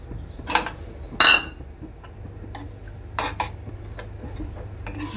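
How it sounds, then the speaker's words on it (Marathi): A pot of milk for rice kheer being stirred: a few sharp metallic clinks and scrapes of a spoon against the vessel, spaced irregularly over a quiet background hum. "दूध चांगलं मिक्स करून घ्यायचं आहे।"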